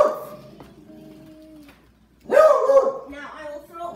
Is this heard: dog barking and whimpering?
yes